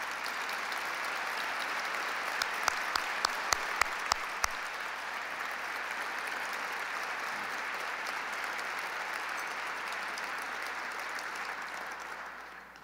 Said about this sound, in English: let's stand so we can give them a round of applause